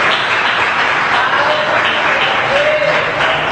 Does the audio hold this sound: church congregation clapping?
yes